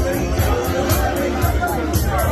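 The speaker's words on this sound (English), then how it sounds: "Absolutely packed in here, far too loud for me to do." A packed, noisy crowd in the Bonny Boat pub in Hull's Old Town, dense close chatter and babble with no single voice standing out, steady and loud throughout.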